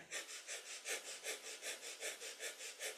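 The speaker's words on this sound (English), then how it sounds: "a breath of fire, our panting breath through the nose" Rapid, rhythmic panting breath through the nose during a kundalini yoga breath-of-fire exercise, about four quick even exhalations per second, close and soft, with no talking.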